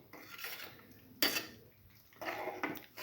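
A spoon scraping and knocking against a pot while a beef liver mixture is stirred, with sharp metallic clinks in short bursts separated by quieter rubbing, close and fairly faint.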